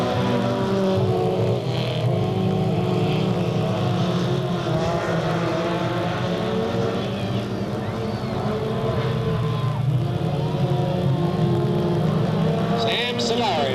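Race cars roar off the line as the green flag drops at Delta Speedway in 1998, a dense, sustained engine drone from a packed field heard from the stands, with an announcer talking over it.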